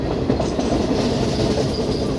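Steady rumble of an economy class passenger train running from Nairobi to Nyahururu in Kenya, continuous rolling wheel noise with faint clickety-clack, heard from inside the carriage with no talk.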